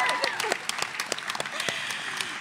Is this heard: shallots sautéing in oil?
no